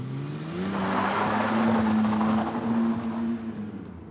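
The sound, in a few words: car driving away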